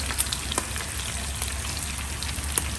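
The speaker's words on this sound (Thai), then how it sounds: "จะเอาพริกแห้งเนี่ยลงไปทอด" Dried chilies crackle and sizzle in hot oil, a steady dense frying hiss with scattered sharp pops, close up and alone.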